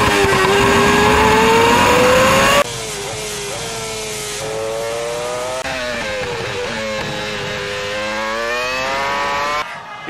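Formula One car engine at full throttle through corners, a loud high-pitched scream that climbs and dips with gear changes and lifts off the throttle, heard alone without talk.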